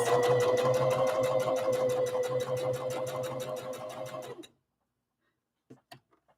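A sewing machine runs rapidly and steadily for about four seconds while stitching rag doll pieces, its needle ticking evenly over a motor whir, then stops abruptly, followed by a few faint clicks.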